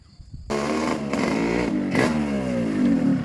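A motorcycle engine starts suddenly after a quiet moment and revs loudly in repeated surges, its pitch climbing and falling with each throttle blip, close and dominating throughout.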